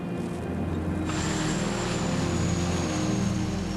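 A jet aircraft on the apron at Edinburgh Airport gives a steady, loud engine roar, with a high whine that enters about a second in and holds.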